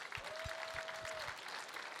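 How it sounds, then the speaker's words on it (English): A gala audience gives a round of applause, with soft, steady clapping heard from a distance under a low, dull thumping. "Let's give them a round of applause"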